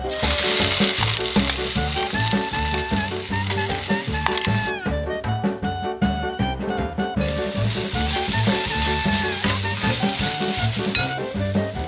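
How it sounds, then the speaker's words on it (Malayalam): Crushed green chilli, garlic and coconut hit hot oil with mustard seeds, giving a loud, continuous sizzle and crackle, with stirring scrapes and brief popping bursts throughout. "ഇതിലേക്ക് നമ്മൾ ചതച്ച് വെച്ചില്ലേ പച്ചമുളക്, വെള്ളുള്ളി, തേങ്ങ, അതെല്ലാം കൂടെ ഇടുക."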